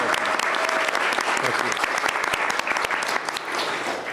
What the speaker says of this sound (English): Let's give him a round of applause, Mayor Johnson.